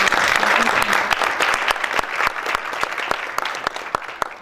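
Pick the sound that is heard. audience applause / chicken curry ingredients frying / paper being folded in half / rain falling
audience applause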